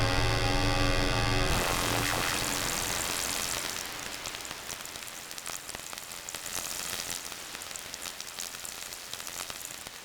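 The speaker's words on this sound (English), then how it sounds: "with this synthetic rain sound" A dense, hissing wash of synthetic rain-like noise from a Polygogo synthesizer oscillator, preceded by a brief buzzy tonal drone, continuing steadily without speech.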